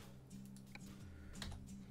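Computer keyboard keys tap a few times while game controls are changed in Euro Truck Simulator 2, faint clicks over a low steady hum.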